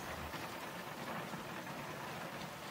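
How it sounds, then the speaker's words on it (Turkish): Rain falling outside a house, heard from indoors as a steady, even hiss of drops with no pauses, soft and constant throughout with no voices. "ne güzel yağıyor değil mi? Yağmur sesine bayılırım."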